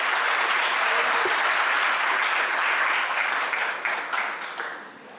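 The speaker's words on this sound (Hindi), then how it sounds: "एक बार जोरदार तालियां हो जाए मैम के लिए।" An auditorium audience at a college fest gives strong, dense applause that holds steady before tapering off near the end.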